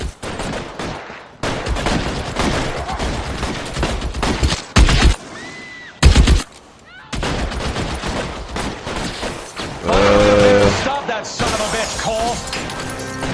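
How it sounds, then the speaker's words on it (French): Gunfire in the video game L.A. Noire, dense volleys of loud, close shots and rapid bursts broken by brief pauses, with glass shattering and crashing mixed in. "Il tire sur les gens comme ça lui."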